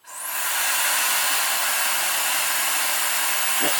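A ULESM 1400W brushless-motor ionic hair dryer switches on at its first heat and airflow setting and quickly rises to a loud, steady rushing whoosh that holds without a break.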